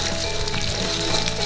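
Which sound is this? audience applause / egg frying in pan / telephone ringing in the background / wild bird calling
egg frying in pan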